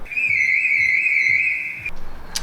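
A BMW E46's car alarm blares in a steady high electronic tone, loud and continuous for nearly two seconds before cutting off, followed by a brief sharp chirp.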